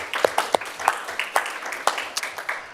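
A small group claps at a student fee commission hearing, giving a sparse, uneven patter of individual claps for about three seconds, close and moderately quiet.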